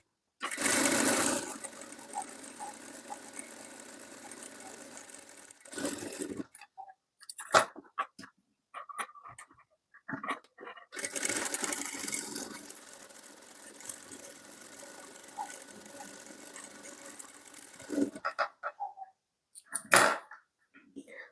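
A sewing machine runs in two long bursts of stitching rows at a long stitch length while gathering a cotton boho print dress for a toddler, with brief pauses, clicks and handling noises between runs.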